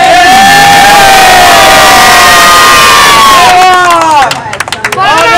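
A crowd of spectators, including children, cheers and shouts loudly during a cash-prize tissue-paper water-glass pulling challenge. The sustained chorus of overlapping voices stays strong, then breaks into scattered whoops near the end.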